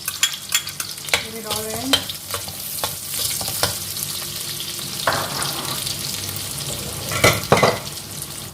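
Garlic for pad thai sizzles and crackles in a hot pan while being stirred, with clinks of a utensil against the pan and a brief spoken phrase near the start.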